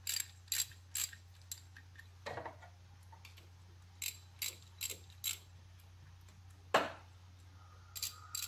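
Bolts are ratcheted tight on a 2002 Honda Civic engine during a timing belt and water pump job: short bursts of crisp ratchet clicks with pauses between them, close by, over a steady low hum.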